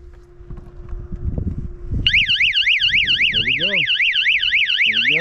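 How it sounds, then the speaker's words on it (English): A loud boat security system alarm starts suddenly, a rapid warbling high-pitched siren near 100 decibels that holds steady and piercing, with some handling noise and low rumble before it. "that alarm, it's got to be close to 100 decibel."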